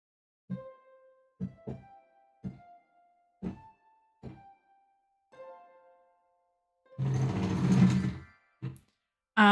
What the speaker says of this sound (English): You also then have a lovely harp.